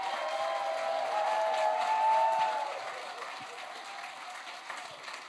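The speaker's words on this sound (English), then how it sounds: "A big round of applause and help me welcoming the Fifth Dimension." An audience applauds to welcome The 5th Dimension, dense steady clapping from a large crowd that swells and then gradually thins and fades, with no cheering standing out.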